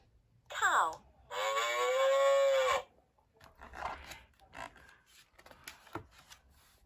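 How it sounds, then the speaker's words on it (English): A farm cow moos twice, loud and close, first with a short call and then a long sustained low moo. Quieter scraping and rustling noises follow after the cow falls silent. "The cow gives us milk."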